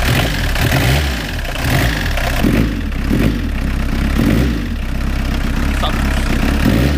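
A diesel competition engine runs unevenly with a lumpy, rough idle and slight surges in revs, close by and fairly loud.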